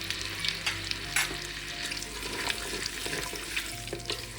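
Whole chilies sizzle and crackle in hot oil for dal and spinach, a steady frying hiss with scattered pops and light stirring, quiet and close.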